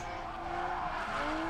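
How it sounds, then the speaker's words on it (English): Coyote-powered Mustang drift car swinging into a handbrake entry at a competition, engine roaring steadily with tire squeal and skidding layered over it, loud and continuous throughout. "Nice handbrake entry by Edwin."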